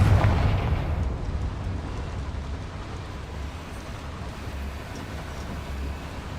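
A Confringo blasting-spell explosion in the video game Hogwarts Legacy hits with a low, booming burst that fades into a long, rumbling roar lingering for several seconds.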